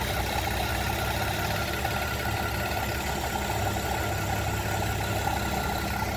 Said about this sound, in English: I need to see what's going on with this misfire.